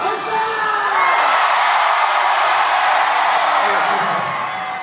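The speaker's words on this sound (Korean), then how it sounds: "함성 박수!" Baseball fans at a Korean stadium roar and cheer loudly in a sustained wave after a winning game, with whoops and shouts rising together and tapering slightly at the end.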